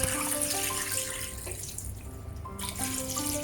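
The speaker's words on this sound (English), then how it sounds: "Filled with cold water sufficient enough to cover the bones." Cold tap water runs steadily into a cooking pot being filled for chicken broth with bones, a continuous close rushing stream with a brief change in tone midway, no voices.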